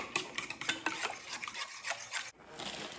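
A fork whisks eggs with salt in a bowl for a big Southern family supper, giving a quick, close scraping and tapping rhythm that stays steady, with a short pause near the end.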